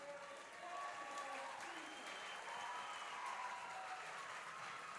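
High school gym crowd erupting for a home volleyball team announced as regional champions, steady applause and cheering filling the room, heard at a faint, distant level throughout.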